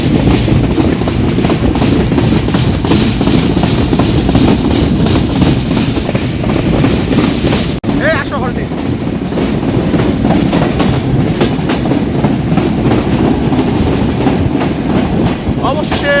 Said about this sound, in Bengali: সুন্দরবন এক্সপ্রেস পঁয়তাল্লিশ মিনিট লম্বে প্রবেশ করলো দর্শনা হলটি স্টেশনে